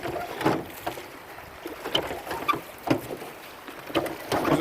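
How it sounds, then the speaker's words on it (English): Rowboat being rowed across a windy lake, with rhythmic oar strokes splashing and knocking at roughly one-second intervals over a soft, steady wind wash, moderately close and without talk. "Tune in for next week's report of rowing up the windy lake."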